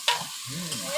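Meat goes into a hot pan for a Bengali curry with pui shak stalks and potatoes, giving a short burst of close sizzling and frying with a stirring clatter.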